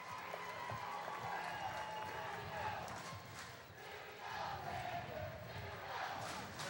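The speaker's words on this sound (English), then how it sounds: "This crowd appears to be ready for baseball as they already have started the chanting." A crowd at a 2003 high school state championship baseball game chants and cheers before play begins, a steady roar of many voices with swelling rhythmic surges.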